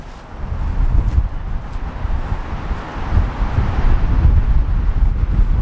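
Strong wind buffeting a microphone on an open golf course, a steady low rumbling roar with gusty swells that grow louder toward the end, no voices.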